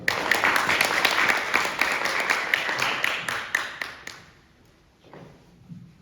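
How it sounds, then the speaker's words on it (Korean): Audience applause at a student symposium of a civil engineering society convention, a dense, bright burst of many hands clapping that fades out after about four seconds, leaving a quiet room with a faint stir. "큰 박수 부탁드립니다."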